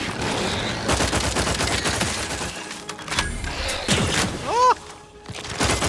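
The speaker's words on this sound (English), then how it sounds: "the sound of this gun is so sexy" Rapid bursts of gunfire from a gun in The Outer Worlds 2 video game, dense repeated shots with heavy thumps and brief pauses, loud and close, with a short rising whine near the end.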